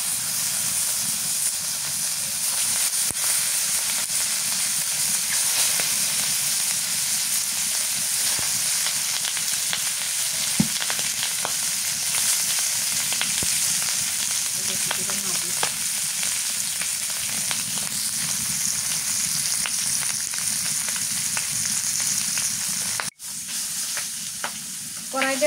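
A hot wok heating for frying fish, with a loud, continuous sizzle and hiss that holds steady throughout, marked by occasional faint clicks and a brief dip near the end.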